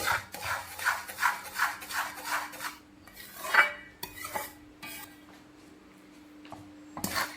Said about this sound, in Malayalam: ഇതുപോലെ നല്ലപോലെ കൈയെടുക്കാതെ നമ്മൾ ഇളക്കി കൊടുക്കാം